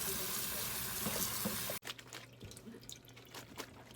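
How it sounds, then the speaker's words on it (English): Wild spring mushrooms being rinsed with water in a strainer: running water and dripping splashes, close and steady, with a sharp break midway and then a lighter patter of drips, no talking. "Okay, so we're going to go ahead and rinse these off."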